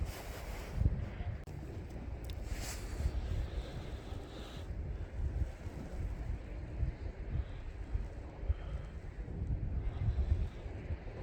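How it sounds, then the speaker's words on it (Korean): Steady wind at the seaside on Muuido during a low-tide fishing session, a continuous low rumbling roar with gusty buffeting against the microphone, calm water with no waves, and no talking. "바람이 살랑살랑 좀 강하게 부네요."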